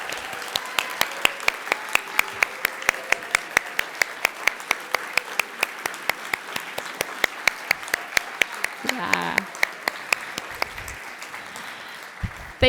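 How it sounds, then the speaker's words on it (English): Clapping at an awards ceremony for cartoonists in San Diego, with crisp, evenly spaced claps in a steady rhythm over a soft room murmur for nearly thirteen seconds. The claps come through sharply, as if from a few nearby hands. "and applaud. This is a clap as long as you need."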